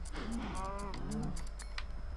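Cows out on a field moo in a video game setting, a couple of low drawn-out calls close together over a steady background hum, with a faint voice underneath.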